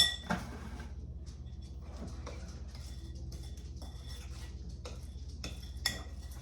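Pear cobbler dough being worked with a utensil in a bowl: soft, irregular scrapes and light clinks of metal against the bowl, fairly quiet, with a low steady hum underneath.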